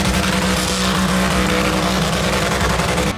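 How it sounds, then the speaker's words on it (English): Loud car engine roaring steadily during a burnout at a drag racing event, dense and continuous with tire noise, cutting off abruptly at the end. "And more burnouts."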